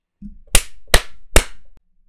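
Three crisp hand claps land in an even, deliberate rhythm about half a second apart in a quiet lecture room, each a sharp close smack, with a faint low murmur just before the first.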